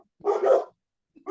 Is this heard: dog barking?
yes